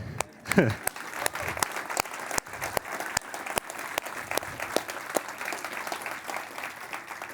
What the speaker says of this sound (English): let's give our members a round of applause